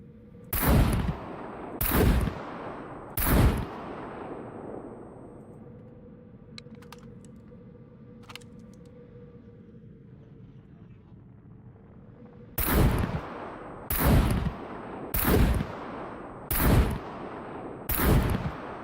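Single gunshots from the survival game SCUM, three loud sharp reports at the start, a quiet stretch, then five more evenly spaced shots close by, with no talking.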